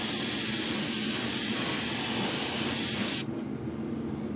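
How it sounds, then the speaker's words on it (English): An airbrush or spray can lays a fine mist coat of paint onto model kit parts held on sticks, giving a steady, close, even hiss for about three seconds before cutting off abruptly. "I'm just going to give everything a mist coat here."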